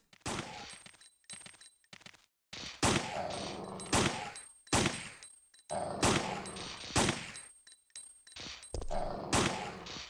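Gunfire from a weapon in Resident Evil 3: Nemesis, inside a parking garage, comes as repeated loud bursts of rapid shots separated by short pauses, close and dominant throughout.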